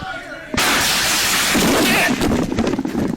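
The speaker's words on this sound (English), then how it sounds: "Shots fired, shots fired." A sudden, very loud gunshot blast goes off inside a house during a tense armed standoff. It cuts in after a quiet start and is followed by a sustained, harsh, roaring reverberation.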